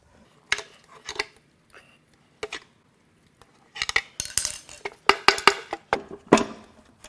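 The oil pan comes off a 2021 Ford Explorer police car's destroyed 3.3L V6 engine, and the broken metal pieces inside clink and rattle. Scattered metallic clatters build into a denser burst of jangling near the end, close by and with no talk.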